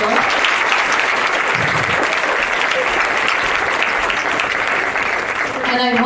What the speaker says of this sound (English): So I think they give another round of applause for sure.